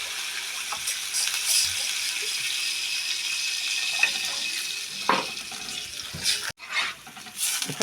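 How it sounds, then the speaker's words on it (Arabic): Water poured into a pot over koshari ingredients seasoned with coriander, black pepper and cumin, a continuous close gushing stream that breaks up into splashes near the end. "حطينا الميه عليها"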